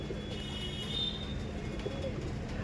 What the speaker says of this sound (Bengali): দেখছেন কত অ্যাগ্রেসিভ পায়রা।